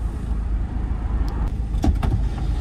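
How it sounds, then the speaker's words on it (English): Electric windows on a Vauxhall VX220 winding down inside the car, a faint motor whir under steady engine and road rumble, with a few short clicks and knocks near the end. "Got some windy down windows."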